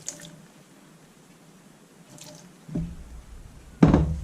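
A splash of VSOP St. Remy brandy hits a pan of green peppercorn sauce for steak, first a few faint drips, then a louder liquid pour and sizzle near the end, close and alone.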